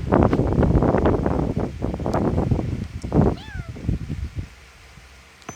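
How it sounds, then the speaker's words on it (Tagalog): Cats meow outdoors, with a couple of clear, drawn-out meows rising out of gusty wind and rustling noise before things quiet down. "Kaya andito yung mga pusa ko sa likod ko"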